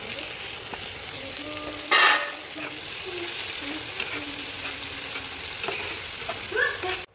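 Chopped onion, a cup of it, fries in a pan where shrimp has just cooked, giving a constant loud sizzle up close with intermittent scraping stirs and clinks, and no one speaks.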